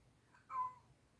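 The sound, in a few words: cat meowing, old pet cat Charlie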